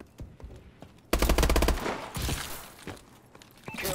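Automatic weapon hip-fired in Call of Duty: a sudden loud burst of rapid rounds, then scattered shots and impacts trailing off, with a brief burst again near the end; no talking.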